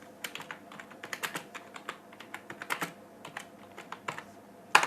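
Typing on a computer keyboard as a channel name is entered for a search, a close, steady run of quick light key clicks lasting about five seconds and ending on a louder final keystroke, with no talking.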